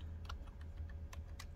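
Quick bursts of clicking keystrokes on a computer keyboard, faint and soft against a low steady hum, with no speech.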